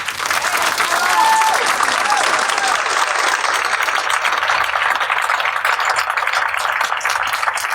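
An audience applauds April Ryan as she is welcomed at a Politics and Prose book event. Dense, sustained clapping fills the room for several seconds, fairly close and loud, with a few crowd voices mixed in.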